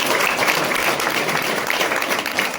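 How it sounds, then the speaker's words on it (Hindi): Steady, dense applause from a seated audience at a school exam-stress programme, a continuous wash of many hands clapping with no voices over it. "जोरदार तालियां।"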